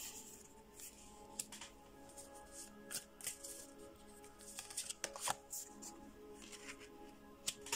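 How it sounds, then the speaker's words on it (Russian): Fortune-telling cards slapped and slid onto a table one after another, a string of crisp close snaps and papery rustles at an uneven pace with no talk over them. "тут они такие своеобразные карты. Будем ложить, как они вот идут"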